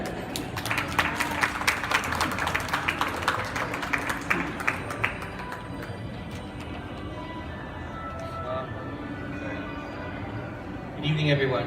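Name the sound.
audience applause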